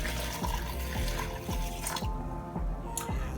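A cup of water being poured into a container of uncooked rice to rinse it, a steady splashing flow with regular dripping accents, close and continuous without speech.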